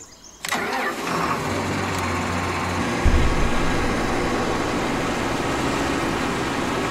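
A vehicle engine in a farming video game cranks and fires, then settles into a steady mid-pitched idle with a slight rev around the third second, loud and continuous, no talking.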